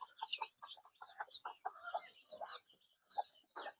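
A flock of ducks quacks and chatters continuously close by, calls overlapping in quick, uneven bursts.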